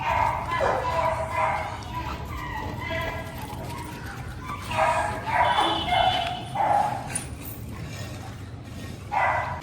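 Dogs at a dog hostel in Jodhpur bark and whine in repeated short bursts, fairly close, with yips and a bleating-like whimper in between, over a noisy background.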